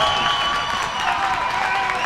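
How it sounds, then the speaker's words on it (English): Spectators at an under-18 boys junior rugby state championship final cheer and clap as a loud, continuous crowd roar with whistling tones, while a commentator talks over it. "Crowd's getting right into this game."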